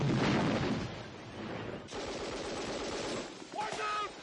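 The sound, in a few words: gunfire and machine gun fire in a Vietnam War film battle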